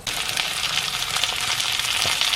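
Lamb cutlets sizzle fat-side down in a pan over low heat, rendering their fat with a steady, dense crackle and spit throughout, close and continuous with no voices.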